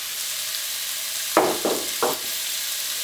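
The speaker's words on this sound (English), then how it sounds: "First we want to cook our celery and our onion. So we can add these to the pan." Chopped onion and celery hitting a hot pan, a steady frying hiss with three quick louder sizzle bursts as pieces land, close and with no talking.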